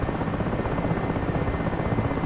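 A UH-1H helicopter flying in a flight simulator, its rotor and turbine producing a loud, dense, continuous low rumbling thrum that stays steady throughout without any voices.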